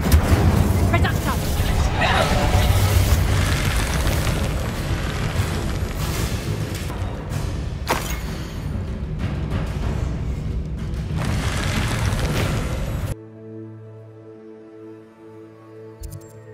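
Spell blasts boom and burst in the video game Hogwarts Legacy, dense and loud over game music with voices calling out, before cutting to a quieter musical stretch.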